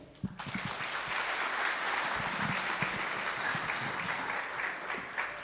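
Sustained audience applause at a symposium on Rwanda, steady dense clapping from a seated crowd filling the hall, fairly distant and even in level throughout with no talking over it.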